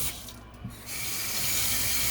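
Water runs steadily from a kitchen tap into a sink while a meatloaf dinner is prepared, starting after a brief pause and holding as a continuous broadband rush, close and fairly loud.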